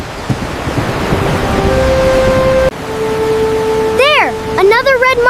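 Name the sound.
flowing water outdoors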